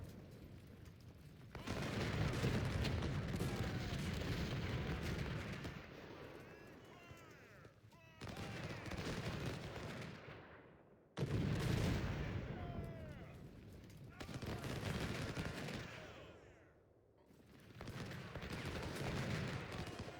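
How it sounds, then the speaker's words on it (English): Cannon artillery barrages in the Ultimate General: Civil War strategy game, dense rumbling bursts of gunfire and explosions in long rolling waves separated by brief pauses. "Really using the supremacy of the cannons now."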